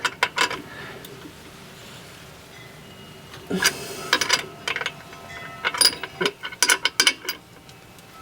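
Metallic ratcheting clicks of a wrench tightening drive shaft bolts, several short bursts separated by quiet gaps, close and distinct with no talk.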